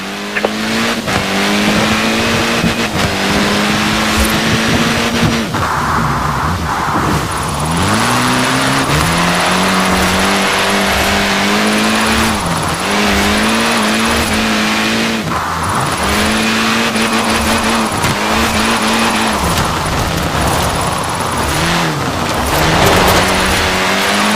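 A car in the Forza Horizon racing game driven hard over mixed road surfaces, engine loud and constantly revving up and down through gear changes, with tires squealing and skidding through corners, steady and close throughout.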